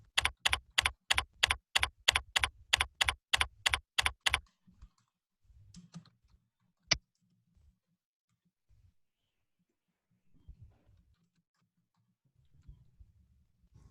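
A computer keyboard clatters in a quick, even burst of about a dozen keystrokes, then falls quiet apart from one sharp click and a few faint scattered sounds.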